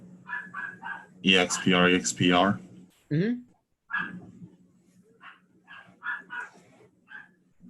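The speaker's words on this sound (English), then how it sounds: "Who has a dog? I hear a dog." A dog barks in the background of an online lecture call, with a few loud close barks under and between people's speech.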